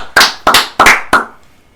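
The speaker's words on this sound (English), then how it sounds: "Can we get a round of applause for our friend of the show, Campbell Donovan, for helping us out?" Four sharp, close hand claps land at an even pace and then stop, leaving near silence with no voices.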